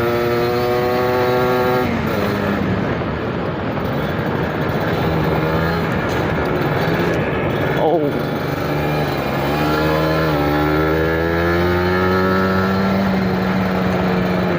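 A Kawasaki Ninja 150 RR fitted with a Koso RX2N speedometer revs up close and loud, its engine pitch climbing and falling through several throttle blips.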